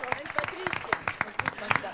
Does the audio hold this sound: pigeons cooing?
no